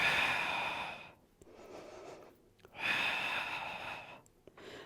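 Deep, slow breaths during a Wunda Chair Pilates workout, two long airy breathing cycles close to the microphone, each a drawn-out inhale and exhale separated by short quiet pauses, with no speech over them.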